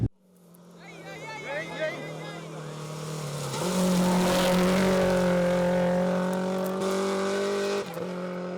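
A rally car drives on a national championship stage, its engine droning and rising in pitch as it accelerates, with a steady rumbling roar and tyre noise that fades near the end while people talk over it.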